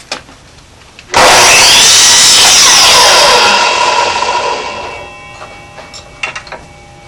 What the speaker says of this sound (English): Then we're going to get a miter saw. I'm going to cut on the line.